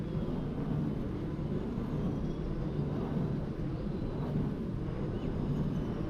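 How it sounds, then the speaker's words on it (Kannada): Wind turbine blades turn overhead with a steady, heavy rushing roar like a distant jet, a low continuous drone heard outdoors with no talk over it. "ನೋಡಿ ವಿಂಡ್ ಮಿಲ್ ಸೌಂಡ್ ಕೇಳಿ ಒಮ್ಮೆ."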